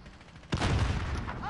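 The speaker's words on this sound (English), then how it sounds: "Throwing grenade!" A grenade goes off in a PS4 first-person shooter: after a quiet moment, a sudden loud blast with a rumbling, crackling tail and scattered gunfire-like bursts sounds close by.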